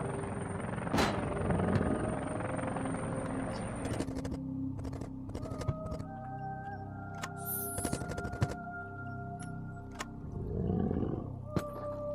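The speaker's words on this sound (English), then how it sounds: "you can press E to actually call in the helicopter as this meter fills up" Helicopter arriving in the video game Call of Tomsk-7, a steady rotor drone running throughout with sharp clicks and game interface beeps layered over it, close and moderately loud.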